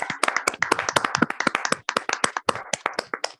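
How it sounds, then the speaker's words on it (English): An audience at a product launch claps in dense, sustained applause, many hands overlapping with sharp, crisp slaps that flow steadily without pause. "Can we have a round of applause, a big round of applause for our new product?"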